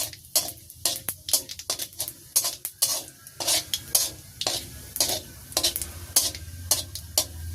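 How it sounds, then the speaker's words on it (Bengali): Cumin seeds fry in hot oil in a village kitchen, a soft sizzle broken by repeated sharp scraping and clinking as a spatula stirs the pan in an uneven rhythm. "দিয়ে দিচ্ছি জিরা, জিরা পোড়াই রাখতেছি।"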